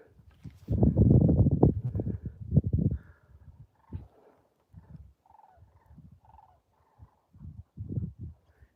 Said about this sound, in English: Y'all hear the geese?